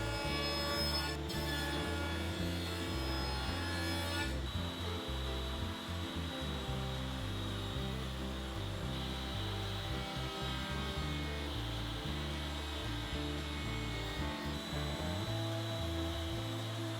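A stacked dado set on a table saw cuts through a wooden board, a steady loud machine drone with grinding, rubbing wood noise running continuously throughout, no voices.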